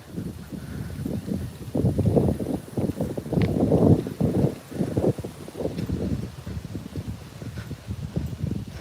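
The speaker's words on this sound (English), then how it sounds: "I did not know the wind was going to pick up" Gusty wind blows across a lake during a fishing outing as storms move in, buffeting the microphone with a steady low rumble that swells and eases for the whole stretch, with no talking.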